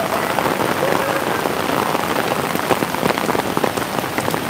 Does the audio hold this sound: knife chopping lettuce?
no